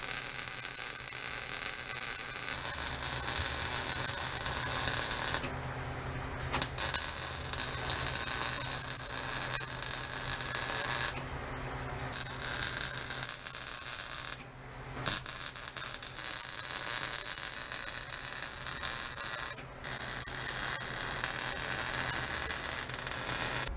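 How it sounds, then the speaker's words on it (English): A cantilevered rocker arm is welded in a home garage, giving a steady, loud crackling buzz that runs in long bursts with a few brief pauses between beads. "I'm gonna go ahead and get this thing all welded up"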